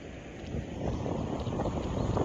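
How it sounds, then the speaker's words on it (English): Outdoor wind buffets a handheld microphone, producing a loud, continuous low rumble and roar that swells partway through. "Well, it's windy."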